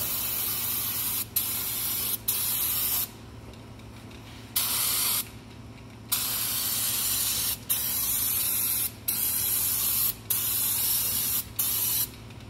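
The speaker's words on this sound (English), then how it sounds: "clean everything up with some brake cleaner" Brake cleaner sprayed onto the brakes of a Toyota Tundra in a string of hissing bursts, some long and some brief, separated by short pauses, close and fairly loud.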